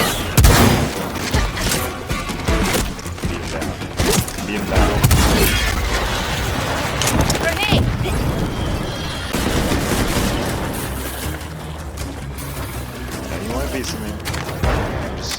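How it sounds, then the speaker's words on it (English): Dense bursts of gunfire and booming explosions crackle continuously in the video game Second Extinction, loud and chaotic, with a voice talking over the din. "Explosions are amazing."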